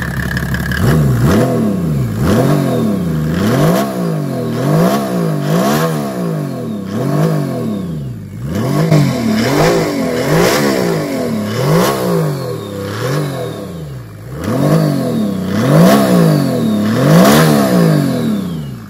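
A Mercedes OM606 diesel engine with a billet hybrid turbo revs loudly and close, rising and falling in repeated throttle blips over a steady clattering idle.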